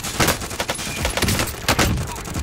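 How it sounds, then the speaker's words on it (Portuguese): Automatic gunfire rattles in the Call of Duty Warzone video game, with loud rapid bursts and single shots cracking close over about two and a half seconds, no talk. "Ele tá tomando um tiro do outro lado também"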